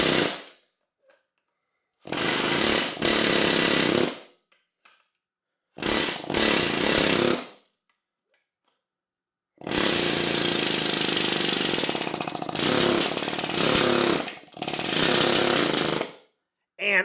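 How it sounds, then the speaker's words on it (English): An air hammer drives a stuck, oxidized bicycle seatpost out of its frame in loud, close rattling bursts of one to several seconds, with silent pauses between them, and no talk. "I'm going to use my air hammer to try to impact it out, just kind of a little bit at a time"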